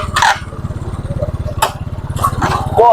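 A motorcycle engine idles close by with a loud, rapid, steady pulsing throb for about three seconds, with short bursts of other noise over it.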